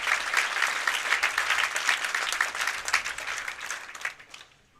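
A crowd applauds at a PBA Kokomo Classic bowling stepladder final, with dense, steady clapping that holds for several seconds and then fades away.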